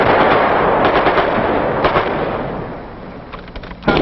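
Dense, rapid machine gun fire during an infantry company's advance up a hill in a 1968 documentary, loud and continuous at first, thinning into scattered bursts.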